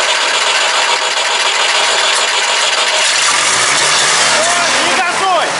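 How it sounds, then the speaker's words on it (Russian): A carburetor engine fitted with a turbocharger cranks and runs, a steady rough mechanical roar with rattle close by, rising pitch whine near the end as the turbine spins up. "Запустить мощный двигатель!"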